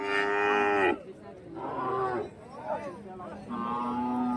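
Cattle lowing at a Friday livestock market in Kundarapalli, Krishnagiri district, with several loud, drawn-out moos in succession close by and no other sounds competing.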